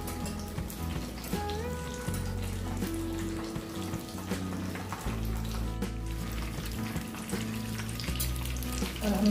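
Battered fish bites fry in hot oil on their second side, a continuous close crackle and bubbling that runs under background music.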